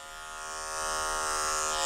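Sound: electric clippers shaving a matted Shih Tzu's face

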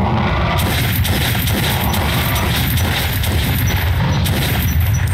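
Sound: gunfire in the video game Metro: Last Light

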